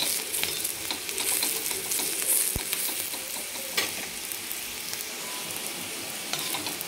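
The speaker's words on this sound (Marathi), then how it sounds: "खोबरं पण लगेच भाजून घ्यायचं आहे" Coconut and onion roast in a pan, a steady crackling hiss broken by stirring scrapes and a single sharp knock against the pan; no voices.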